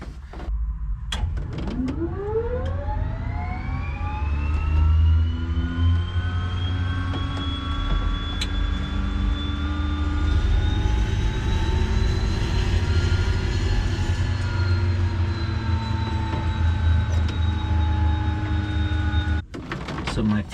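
Light airplane engine running on a ground test after a fuel repair. It is loud and steady, with a rising whine as it spools up, holds a sustained drone close by, and cuts off abruptly near the end.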